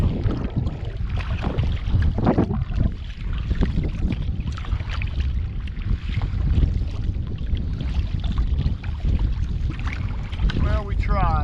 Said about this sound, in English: The wind's starting to die down.